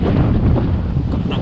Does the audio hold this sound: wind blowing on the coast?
yes